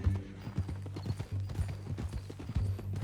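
Horse hooves clip-clopping in Red Dead Redemption 2, a steady rhythmic stream of close hoof falls with strong low thuds, continuing throughout with no talk over it.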